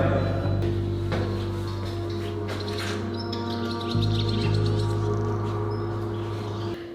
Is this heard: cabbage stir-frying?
no